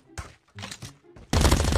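Gunfire from Call of Duty Mobile in a competitive match, an M2 weapon in play: a few sharp separated shots early on, then a loud dense burst of rapid fire closing out the moment.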